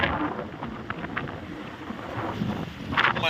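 Cold wind at a beach resort in Pagudpud, Ilocos Norte, buffeting the microphone in uneven rushing gusts that swell louder toward the end.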